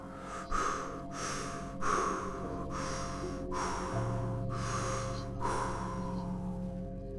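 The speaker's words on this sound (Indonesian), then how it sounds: "dari bawah rumah terdengar suara nafas kasar." Slow, heavy, rasping breaths repeat in a steady rhythm, each inhale and exhale loud and rough over a low droning background.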